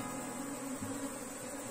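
Honeybees on a hive frame drone in a steady, close, continuous buzz with no breaks or voices.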